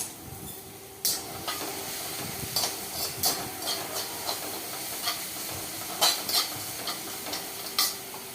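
Garlic and ginger fry in a pan for dal baati side dishes, giving a steady sizzling hiss broken by several sharp stirring scrapes and crackles, close and fairly quiet with no talk.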